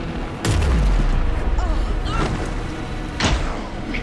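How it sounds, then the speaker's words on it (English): Gunfire in the video game Alan Wake II: a heavy, booming shot near the start, then scattered sharper bursts and another loud blast near the end, over a low rumbling game soundscape. "Anderson, pin him down with gunfire for me to get the light on him."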